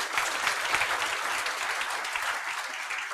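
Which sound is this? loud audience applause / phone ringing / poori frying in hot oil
loud audience applause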